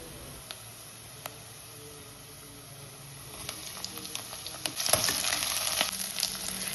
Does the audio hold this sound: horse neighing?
no